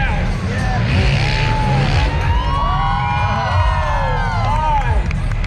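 Honda freestyle motocross bikes ride and jump at a Calgary Stampede show, engines whining and rising in pitch over a constant crowd roar, with an announcer talking over the arena noise.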